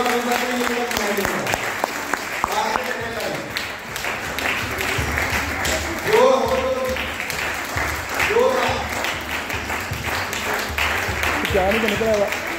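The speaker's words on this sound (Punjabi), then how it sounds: "ਜ਼ੋਰਦਾਰ ਤਾਲੀ ਮਾਰਦੇ ਰਹੋ" An audience claps through a live event in Punjab, a dense, continuous patter of applause with a voice talking over it.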